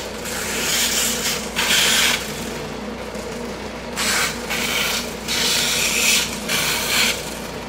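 Wooden edges of a flag concealment cabinet roughed up by hand, with steady rasping rubs in several bursts separated by brief pauses, close and fairly loud, with no talk.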